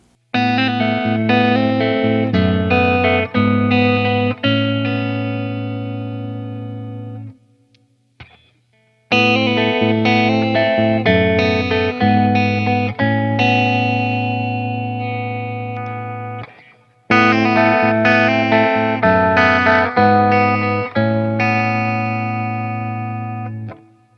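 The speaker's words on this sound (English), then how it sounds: "let's check out some of the clean tones" Clean electric guitar tones from a Schecter Fastback II, a T-style guitar, playing strummed chords and picked notes in three phrases with a short pause between them, ringing with light chorus and reverb and no talking.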